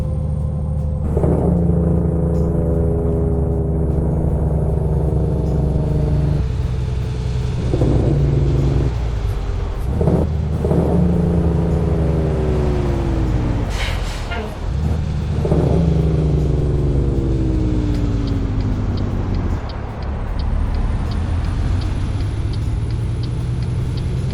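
Peterbilt 389 truck in American Truck Simulator, a steady loud diesel engine drone with shifting revs and harmonics, broken by a few sharp hissing air-brake releases.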